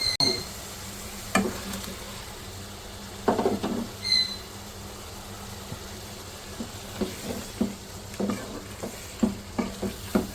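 Fried eggs stirred into a simmering egg potato curry, soft bubbling under scattered scraping spoon strokes and clinks against the pot, with a couple of louder knocks early on.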